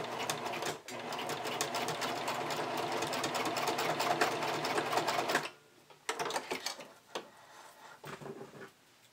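A sewing machine stitches bikini binding close to the slider, running in a steady, close whirring burst for several seconds, then stopping and giving way to short, scattered clicks and handling noises.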